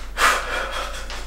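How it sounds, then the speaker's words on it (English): Heavy breathing from someone sitting in an ice bath, one close, loud, rushing breath with a gasp-like start that fades into a softer exhale. "You guys are literally just hearing me breathe at this point."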